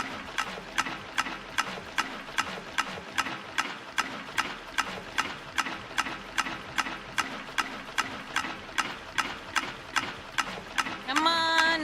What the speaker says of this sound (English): I just gotta put clothes from the wash to the dryer